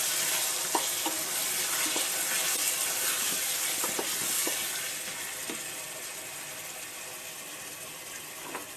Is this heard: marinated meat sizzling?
yes